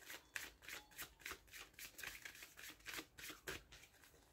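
Tarot cards are shuffled and cut by hand in a quiet room: soft, rapid riffling bursts repeat in an uneven rhythm, close and faint, with no talking.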